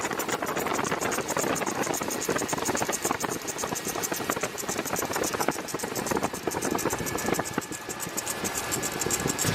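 A 2002 Chevy S-10 Xtreme engine idles with worn idler and tensioner pulleys. It gives a continuous, fairly faint rattling whir with a fast, dense ticking texture that holds steady throughout.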